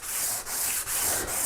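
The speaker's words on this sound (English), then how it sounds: "I'll start working back and forth on the saw like" A stone rubs back and forth along the teeth of a rusty crosscut saw, giving a rhythmic scraping of about four strokes with brief pauses between them. The sound is close and moderately loud, and no one speaks.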